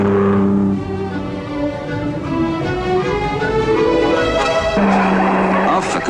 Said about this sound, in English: The rough and tumble of rallying has no terrors for Isigoni's masterpiece.